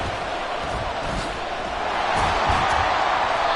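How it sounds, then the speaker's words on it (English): Dense football stadium crowd roaring steadily during an NFL game, loud and continuous with no single voice standing out, swelling a little louder toward the end. "This crowd doing all they can."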